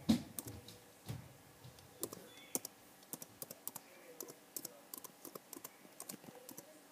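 Computer keyboard keys click in an uneven run of light taps, close and fairly quiet, with brief pauses between bursts and no talk over them.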